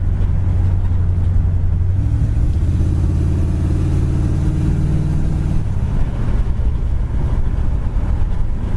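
1970 Ford Mustang Mach 1 with a 351 V8 cruising down the road, a continuous low engine drone with wind rush and a shift in pitch midway, steady and close.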